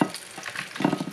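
Fish sizzling and crackling in hot oil, a busy spattering hiss with bursts of popping, close up.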